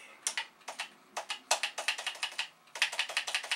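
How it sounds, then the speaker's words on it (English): Fingers typing on a dusty Commodore 8032 PET computer keyboard with a bouncing D key, giving quick clusters of crisp, close key clacks in uneven bursts with brief pauses between them. "I will type in world"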